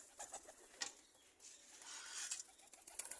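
Pigeons being fed coo softly and murmur in a faint, close group, with a few light wing flutters and rustles and no talking.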